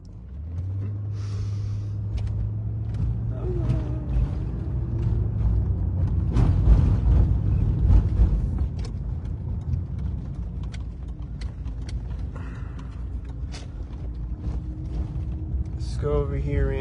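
Traffic at an intersection: a car and a truck pass by, a steady low engine rumble swelling in the middle and fading again, with a faint voice heard in the background.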